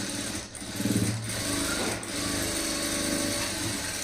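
Sewing machine stitching blouse lining cloth, a loud close mechanical whir with rapid rhythmic needle chatter, briefly pausing and restarting twice.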